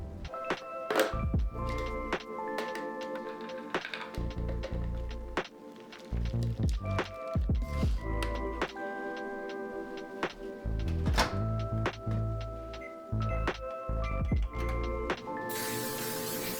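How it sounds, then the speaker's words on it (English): Egg shells smacked open one-handed against a hard edge in a home kitchen, heard as a series of dull, close thunks and knocks with short quiet gaps between them. "The shells were destroyed on that one-handed smack, but the egg yolks are still intact"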